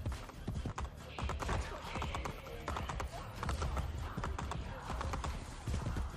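Horse hooves trotting at a steady, moderately quick pace in Assassin's Creed: Brotherhood, a continuous rhythmic clip-clop close up that runs throughout, with a faint whinny, ambient game noise and no talking.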